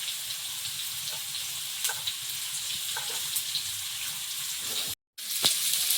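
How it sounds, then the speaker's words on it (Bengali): Potatoes frying in oil in a home kitchen in the Sundarbans, a steady hissing sizzle with faint clicks, briefly cut off near the end before resuming. "ওদিকে আলুটা একটু ভেজে নিচ্ছি ভালো করে"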